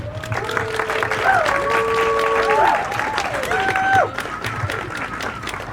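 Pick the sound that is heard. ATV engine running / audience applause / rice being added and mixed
audience applause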